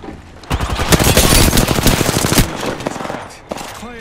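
Automatic gunfire in the video game Apex Legends, a loud sustained burst of rapid shots lasting about two seconds, followed by scattered quieter shots and game effects.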